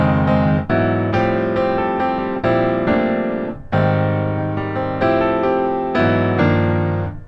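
A piano plays a melody with a wacky jazz reharmonization. Sustained chords are struck one after another, each ringing out and decaying before the next, with nobody speaking.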